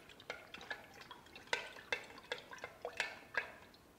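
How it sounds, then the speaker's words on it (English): A spoon stirs a pineapple party punch topped up with lemon-lime soda, giving a run of light clinks and liquid swishes that come in quick irregular taps, close and quiet. "Give it a nice stir."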